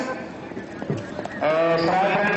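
Horse hooves clip-clop at a neza bazi tent-pegging event in Mandi Bahauddin, set beneath a loud announcer's commentary and crowd noise that swells near the end.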